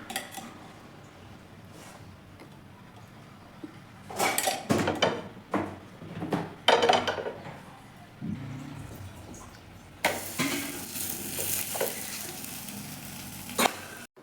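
Maize flour paratha frying in oil on a tawa: quiet background hiss, then bursts of clattering and scraping as the flatbread is handled, followed by a louder, steady sizzle near the end.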